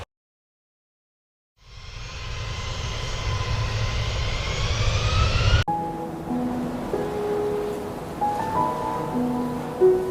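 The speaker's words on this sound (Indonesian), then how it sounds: "Akhirnya kita take off guys" A passenger airplane takes off on a flight from Kalimantan Barat toward Balikpapan, heard from a window seat as a loud, steady engine roar swells in after a quiet start, joined later by tonal whines and cabin tones.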